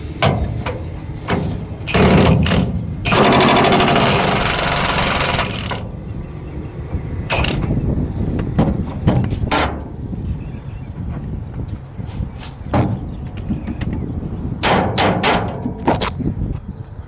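A jack and a pry bar strain against a stuck part on a Scout 800. Loud, close metallic clanks and knocks sit around a long, harsh grinding scrape.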